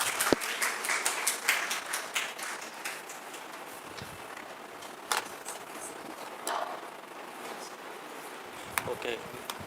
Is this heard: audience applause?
yes